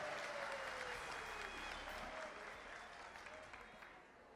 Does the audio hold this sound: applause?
yes